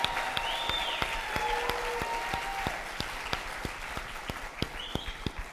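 Scattered audience applause at a women's pitch competition event for the judges, individual claps standing out in a loose, uneven rhythm at moderate distance, fairly quiet overall.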